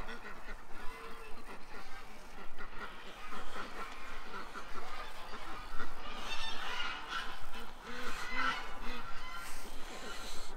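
A flock of ducks and geese honks and quacks continuously at a moderate distance, a busy overlapping chatter of calls with faint voices mixed in.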